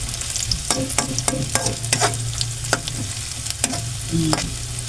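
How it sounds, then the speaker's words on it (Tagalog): Eggplant and okra fry in a hot pan with a steady sizzle, while a spatula taps and scrapes the pan in irregular clicks throughout. "iniinit ko yung kawali at magpiprito din po ako ng talong at okra"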